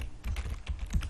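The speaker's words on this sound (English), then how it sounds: "here I want to type the API address" Rapid keystrokes on a computer keyboard as a web address is typed into a browser, with close, steady clicking and no talking.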